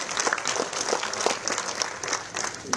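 An audience applauds at the presentation of the Tour Cycliste de Guadeloupe, a lively, continuous patter of clapping hands with individual claps standing out close by.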